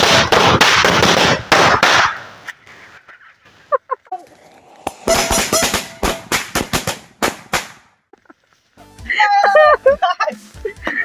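A bijli firecracker strip exploding under a steel bowl: a rapid, dense string of sharp bangs, then more scattered pops after a pause, loud and close, with excited voices shouting near the end.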